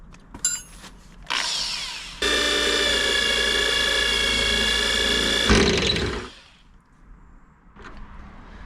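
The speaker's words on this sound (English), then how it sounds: "I'll try and put that bigger drill bit through it now" A larger bit in a power drill bores into metal on a Camaro gas tank job, grinding in a loud, steady whine for about three seconds, then a harsher burst before it stops, with short mechanical clicks around it.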